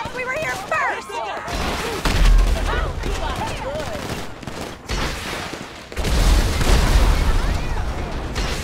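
Gunfire rattles through a video-game firefight against bikers, with loud bursts of automatic fire and heavy booms running almost continuously and sharp, up-close shots over a dense mix of game sounds.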